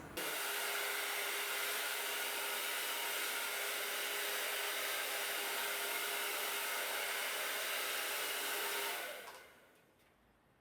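A hair dryer blows a steady, loud stream of air across a fabric projection screen to smooth out wrinkles, running continuously until it is switched off and quickly winds down near the end.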